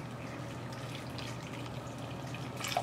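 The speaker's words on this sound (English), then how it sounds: "we need to add a little bit of water into the apples." Water trickles and splashes steadily into a pot of apples, a soft continuous pour close by with no talking.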